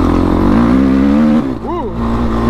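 A Honda TRX 450 quad engine runs loud and close with a steady, throaty idle note that dips briefly near the end, while a voice lets out a short exclamation over it.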